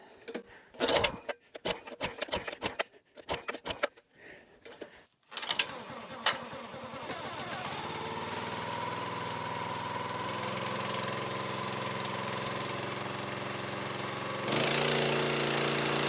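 A small pull-start engine, just restarted after a backfire, sputters through a few uneven catches and then settles into a steady, droning idle that runs on alone, growing slightly louder near the end.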